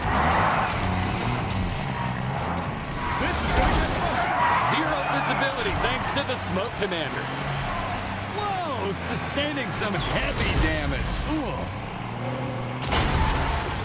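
A car in a video game drives and skids, its engine revving and tyres squealing repeatedly over a busy, continuous game soundtrack.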